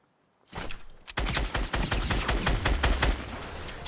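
Sustained automatic fire from a SCAR assault rifle in Fortnite: one early shot, then a dense, loud, continuous rattle of rapid shots lasting several seconds, close and without talk.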